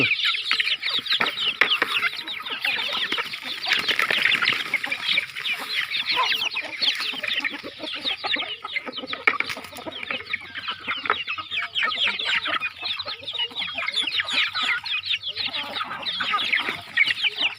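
A small fighting rooster clucking steadily and close, with busy overlapping clucks and chatter from a yard of chickens running throughout, lively and fairly loud.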